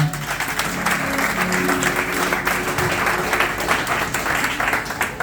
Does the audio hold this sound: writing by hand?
no